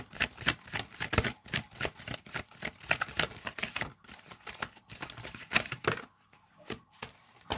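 A deck of tarot cards gets handled and shuffled, a rapid run of papery riffling flicks and soft slaps at close range, pausing briefly before more card sounds near the end.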